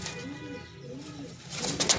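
Fancy American pigeons, a yellow male and a black female, coo softly at close range at an imported fancy pigeon farm in Faisalabad, with low rolling calls and a brief flutter near the end.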